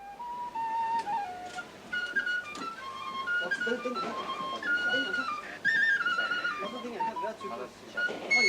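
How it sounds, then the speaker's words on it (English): A penny whistle plays a lilting Percy Grainger tune in a bright flourish of quick, shifting notes, moderately close, with someone narrating over the melody. "There was a flourish of penny whistle Percy Grainger."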